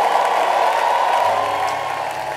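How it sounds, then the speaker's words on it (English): A church congregation at a celebration service claps steadily and shouts together, a broad continuous roar of applause and cheering filling the room. "Oh, come on, clap about it and shout about it."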